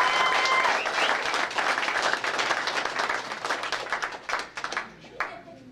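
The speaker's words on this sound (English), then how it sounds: "If we could, one more round of applause." Audience applauding at a 2014 season awards pre-ceremony for the DJSA, a dense burst of clapping that thins out and trails off into scattered claps near the end.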